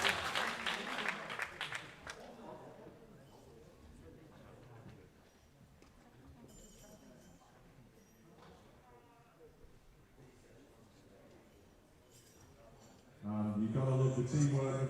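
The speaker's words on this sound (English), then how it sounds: "Round of applause, ladies and gentlemen." Applause from the audience at a world classic powerlifting championship, a burst of clapping at the start that fades into quieter arena murmur and voices, then swells again loudly near the end.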